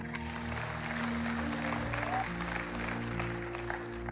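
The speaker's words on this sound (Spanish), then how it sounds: "Vamos a darle un aplauso a Ana" Church congregation applauding a woman called up on stage, a steady wash of clapping lasting throughout with a low hum and faint voices beneath.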